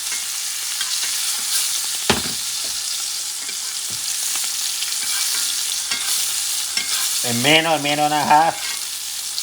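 Butter with garlic sizzles steadily in a pan for a ribeye dish, a loud, continuous crackling hiss, with a spoon scraping and someone briefly talking over it near the end.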